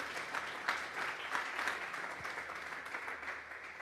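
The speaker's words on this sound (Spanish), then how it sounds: "Vamos a darle una ofrenda de palmas a Dios en esta tarde." A church congregation at a Sunday service claps together as an offering to God, a dense, steady wash of applause from many hands in a large room, moderately loud and sustained throughout.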